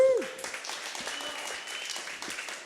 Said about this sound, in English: let's hear a warm applause for Nemanja from Cryptic Legends.